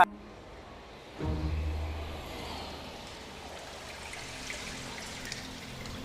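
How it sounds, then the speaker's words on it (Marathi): Kumbhe waterfall in the Sahyadri hills of Raigad during the monsoon, a steady, fairly faint rush of falling water heard from some distance, with a low thump early on. "इथं हा खूप प्रसिद्ध धबधबा"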